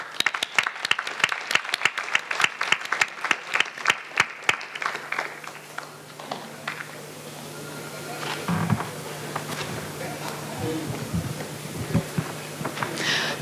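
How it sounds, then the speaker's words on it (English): Rhythmic hand clapping from a small group at an award ceremony for about four seconds, then it stops, leaving room noise and a few faint shuffles. "please give them a big round of applause."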